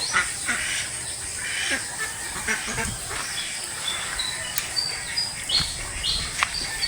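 Ducks quack repeatedly at a moderate distance on a rural farm beside rice fields, with steady outdoor background noise and chirping birds mixed in, no talking.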